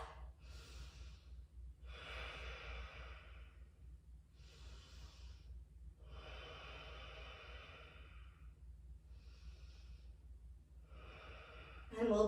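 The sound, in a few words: breathing during yoga Surya Namaskar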